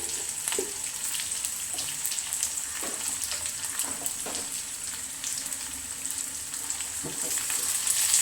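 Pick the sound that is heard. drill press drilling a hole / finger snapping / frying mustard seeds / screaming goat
frying mustard seeds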